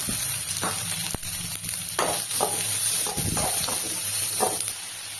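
Onions sizzle and fry in hot oil, a steady hiss broken by scraping stirs and occasional clinks of a utensil against the pan.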